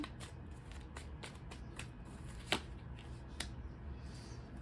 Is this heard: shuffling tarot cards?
yes